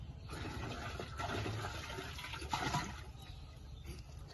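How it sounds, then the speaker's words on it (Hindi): Cow urine is poured into a mix for making jeevamrut on a farm, a low, continuous splashing pour of liquid lasting a few seconds, fairly faint and without talk. "ये गौमूत्र डालते हैं अब हम।"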